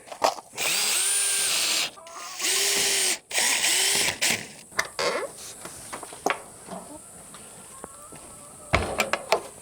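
Power drill driving screws into a wooden duck house door, three sustained whirring bursts in the first four seconds, close and loud, followed by scattered knocks and handling clatter.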